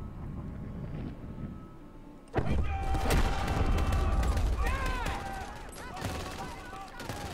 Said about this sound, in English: He's shooting in the air.